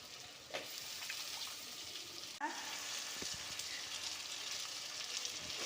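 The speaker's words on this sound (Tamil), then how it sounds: "வெங்காயம் தக்காளி வதங்கியிருக்கு கத்திரிக்காய் சேர்க்குறேன்" Eggplant sizzles and fries in a pan with sautéed onion and tomato, a steady close crackle with a few stirring clatters, one sharper scrape partway through, and no talking.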